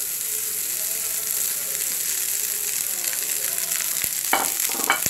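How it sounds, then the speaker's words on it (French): Rice is added to fried onions in a pot, giving a steady, dense frying hiss throughout, with a short rustling, pouring burst of grains near the end, all close by and without speech. "Quand les oignons sont bien cuits, on va rajouter le riz"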